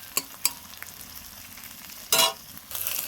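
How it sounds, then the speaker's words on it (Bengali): Chopped tomato stirred into half-fried onions in a pan, heard as a few sharp scrapes and clicks, then a loud burst of sizzle and a steadier hiss near the end, close and fairly quiet overall. "দিয়ে দেবো টমেটো কুচিটা, দিয়ে ভালো করে ওর সঙ্গে নাড়বো।"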